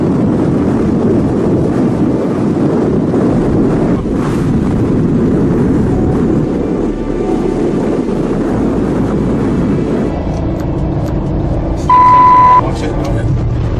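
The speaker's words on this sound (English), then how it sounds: "Good 50 knots of wind." Strong gale of about 50 knots roaring around a new Interceptor 42 pilot boat in rough seas, a steady loud buffeting wind rush with low rumble throughout and a brief tonal beep near the end.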